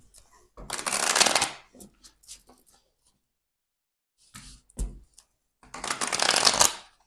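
Oracle cards are shuffled by hand in two loud bursts of riffling and flicking, separated by a quieter pause with a few soft card taps, close and clear with no talking over it.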